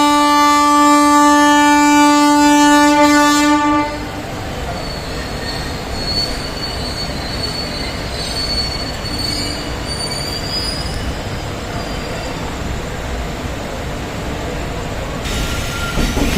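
A Howrah–Ranchi Intercity Express pulls out of Midnapore station, steady loud rolling rumble and wheel noise on the rails, with a sustained tonal horn or squeal at the start that cuts off after a few seconds.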